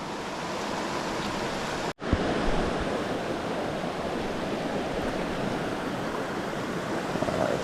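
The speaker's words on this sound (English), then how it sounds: "It's not a very deep creek, so don't need much. But it's flowing awesome." A shallow, fast-flowing Pennsylvania creek rushes in a steady broadband hiss with wind on the microphone, loud and continuous apart from one brief dropout near the start.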